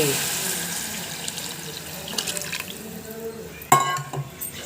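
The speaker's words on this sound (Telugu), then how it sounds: "ఇప్పుడు మనము ముందుగా తీసి పెట్టుకున్న చింతపండు పులుసుని కూడా ఇందులో యాడ్ చేసుకోండి" Tamarind juice pouring into a pot of Andhra-style okra curry, a soft splashing, trickling liquid sound close by, with a sharper splash near the end and faint background noise.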